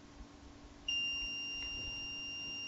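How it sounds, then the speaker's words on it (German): A Raspberry Pi alarm system sounds a steady electronic alarm beep, a two-tone piercing tone that starts abruptly and holds continuously at close range with no talk. "dann geht der Alarm an"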